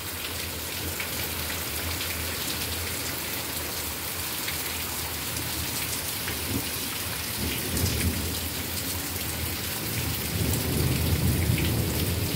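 Steady heavy rainfall drums on surfaces throughout, while deep rolls of thunder build and rumble louder toward the end.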